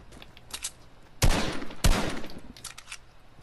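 Two loud in-game gunshots ring out about half a second apart, each trailing off into a ragged echo, while faint scattered shots and ambient game noise sit quietly before and after.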